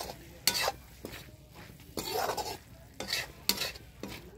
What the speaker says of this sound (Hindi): सब्जी छौंक रही हूँ